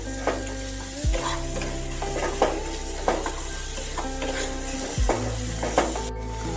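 Pumpkin being stirred with salt and turmeric in a pan on a gas stove, a steady sizzle under repeated scraping strokes of the spoon and a couple of louder knocks against the pan, close and clear with no talk.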